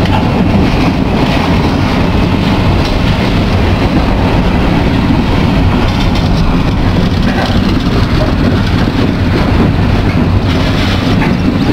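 A Norfolk Southern locomotive-hauled train rolls slowly past close by at about 10 mph, with a steady heavy rumble and rhythmic rail clatter that holds throughout.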